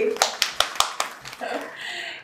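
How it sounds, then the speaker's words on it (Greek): Roughly five sharp, evenly spaced handclaps ring out in a talk venue as guests are introduced, loud and close. The clapping then gives way to a voice speaking. "Παρακαλώ ένα χειροκρότημα για τον Γιώργο Πικέτσο και τον Γιάννη Κινήρη"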